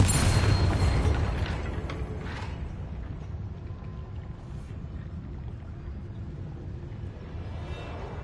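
A Bombarda spell blast in Hogwarts Legacy opens with a loud low boom that rolls into a long, fading rumble and creaking debris texture.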